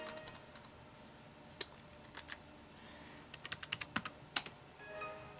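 Fingers tap on the keyboard of an IBM ThinkPad R51 laptop, giving soft, close clicks in uneven bursts that cluster into a quicker run near the end over a quiet room hum.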